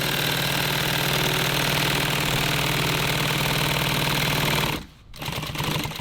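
A sewing machine stitches a nylon tactical pouch with a loud steady mechanical whir and fast needle chatter, running continuously up close, then stopping briefly before starting again.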